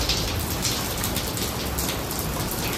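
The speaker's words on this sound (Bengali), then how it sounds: "এই যে বৃষ্টি হচ্ছে।" Heavy rain pours down steadily, a dense, loud wash of drops drumming on surfaces close by, with no voices over it.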